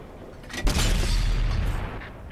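A tank cannon shot in World of Tanks on console: one sudden loud boom that rolls into a long, low, rumbling decay, heard alone.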